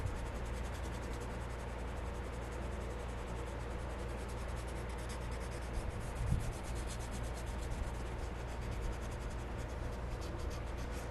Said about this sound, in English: You especially want to sand around these little rise areas here because it tends to, the putty tends to clump in those little corners there